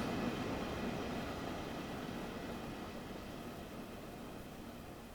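A train in the video game Train Sim World 2 rumbles past at night on the Ruhr-Sieg Nord route in a steady low roar that slowly fades as it moves away, fairly faint and distant.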